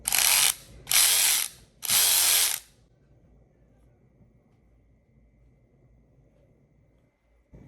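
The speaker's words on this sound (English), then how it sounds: "I can't get enough of squeezing the trigger on this one." A Snap-on brushless 14.4V cordless ratchet, kit CTR861K2, whirs in three short, loud, close bursts in quick succession, then falls to near silence with only faint background hum.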